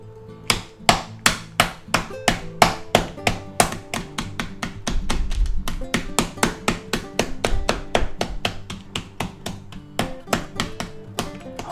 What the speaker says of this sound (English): it works really good as a hammer